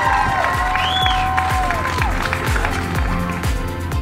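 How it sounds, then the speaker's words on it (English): Outdoor crowd at an overdose awareness walkathon in Texas applauding and cheering to welcome a speaker, steady clapping with scattered whoops and loud voices over the whole stretch. "help me give a warm applause and welcome to a real American patriot, Morgan Luttrell."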